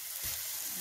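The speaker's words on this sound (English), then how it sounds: "We're going to fry it until the color changes." Minced meat fries in a pan for a meat pie, giving a brief soft sizzle at low volume.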